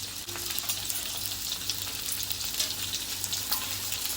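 Stuffed okra (bhindi) frying in a pan, giving a steady, even sizzle with a bright hiss and light crackle, close and continuous with no talking.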